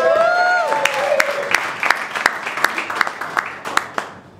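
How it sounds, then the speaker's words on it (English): A comedy club audience gives a short burst of applause, with a crowd murmur and a voice at the start, then fading into a few sparse, rhythmic claps close by. "Thank you for your applause."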